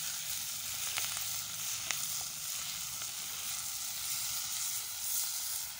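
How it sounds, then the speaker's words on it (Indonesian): Water spinach (kangkung) with palm sugar stir-fries in a pan outdoors in a guava orchard, a loud continuous hiss and sizzle with a few light utensil taps, close up and without speech. "Kita tumis, aduk rata."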